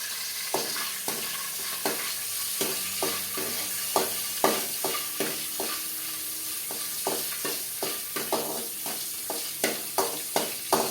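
Two cashew nuts frying in ghee in a pan over a low flame: a constant soft sizzle with regular light scraping stirs roughly every half second, close by and no voices.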